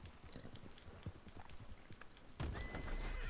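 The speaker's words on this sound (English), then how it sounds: "Oh, that is my horse." A horse in the Red Dead video game whinnies amid clip-clopping hooves and scuffling game sounds, followed by a sudden louder burst of noise near the end.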